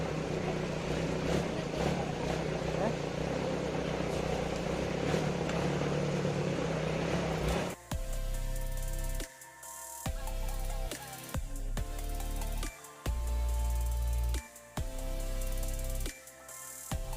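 Off-road vehicle ride through the hills of Kanthalloor, a steady loud engine drone and rumbling jolts filling the first half, then choppier bursts of engine and bumping over rough ground, with faint voices mixed underneath.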